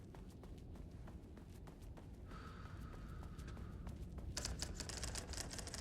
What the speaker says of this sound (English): Oh, now they start typing.